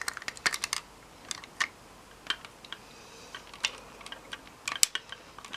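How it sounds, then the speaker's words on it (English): Plastic parts of a Mighty Morphin Power Rangers Legacy Ninja Megazord toy give sharp, light clicks, with scattered close snaps and small rattles spread across a quiet background. "When you hear that click, it's in place."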